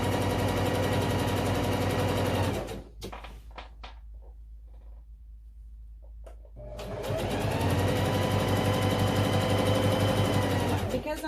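A sewing machine stitches fabric for a lap blanket in two steady bursts, loud and near, with a short pause of small handling noises between them; a voice talks over the stitching.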